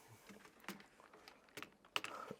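Typing on a computer keyboard at a desk, a short run of quiet, irregular key clicks with brief pauses, close but faint against a low room background.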